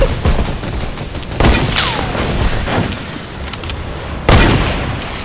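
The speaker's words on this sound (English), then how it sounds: "That's us shooting at you" Gunfire in the video game Fortnite comes as loud, close bursts of rapid shots and booming hits over a continuous noisy game background, with two heavier blasts standing out.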